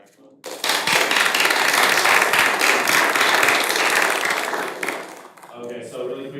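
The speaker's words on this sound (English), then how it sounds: "Can we get a round of applause for everyone?" Applause from a meeting audience for participants and candidates, a dense burst of clapping that starts abruptly, holds steady for several seconds, then fades as voices take over at the end.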